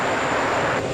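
A fixed-wing airliner arriving on the parallel runway at JFK Airport in New York on a windy day, heard as a steady, loud, broadband engine roar that stays continuous throughout.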